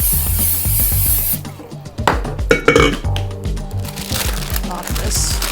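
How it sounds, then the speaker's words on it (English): Cooking spray hisses in a short burst onto a bowl holding pretzel dough, followed by clinks and knocks of the bowl and utensils being handled close up. "I'm gonna spray this down."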